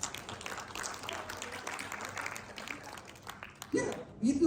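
A church congregation at a Sunday service in Cianjur claps together, a diffuse and fairly soft wash of applause that fades out before a voice comes in near the end.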